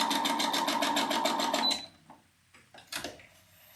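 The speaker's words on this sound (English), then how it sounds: "Keep sewing so that you've given yourself a tail that you will cut later on." A sewing machine stitching quilt fabric runs in a steady, rapid rhythmic chatter for under two seconds, then stops, followed by a few light handling clicks and rustles nearby.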